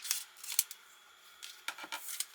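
Scissors snip apart pieces of vinyl title decals at a crafting table, giving a few sharp, close cuts in irregular bursts with quiet gaps between them.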